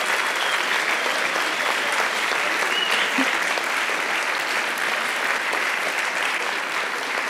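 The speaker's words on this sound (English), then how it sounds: "We just have a round of applause for the core jury and the university representative jury." An award ceremony audience applauds the jury, a thick, even roar of many hands clapping that holds at a steady loudness throughout.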